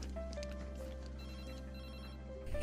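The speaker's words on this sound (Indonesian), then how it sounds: "Saat Tung mengangkat telepon, yang ternyata dari Tom yang ingin meminta bantuan ke Tung jika dia" A telephone rings steadily against background music in a dramatized scene, a sustained electronic ringtone running through most of the short stretch before a louder thump at the end.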